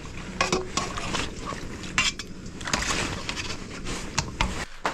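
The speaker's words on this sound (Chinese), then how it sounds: "把这个锅盖洗一下，今天晚上就用这个锅盖，" A metal pot lid is washed at an outdoor campsite on a cycling trip in Tibet, with repeated scraping, clinking and splashing strokes, close and fairly loud, in steady irregular rhythm.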